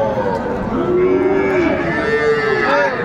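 Sahiwal bull calves at a crowded cattle market give a loud, close, drawn-out moo that wavers in pitch over a couple of seconds, with a second fainter call near the end and a low market hubbub behind.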